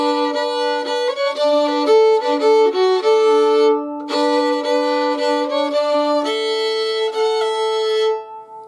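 An old-time fiddle plays the lively tune "Iron Horse" with ringing open-string double stops, two strings sounding together, steady and close, with a brief pause midway before the melody continues.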